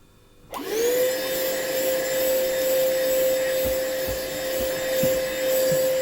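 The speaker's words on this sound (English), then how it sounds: "I like to put the vacuum cleaner on" A vacuum cleaner starts up with a rising whine and then runs steadily and loudly, a constant motor drone with faint knocks underneath.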